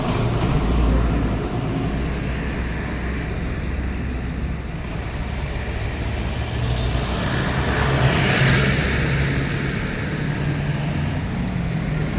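Highway traffic with buses passing along a roadside frontage in Chalakudy, Kerala: a steady, washing roar of vehicles that swells as one passes near the end, with no talk.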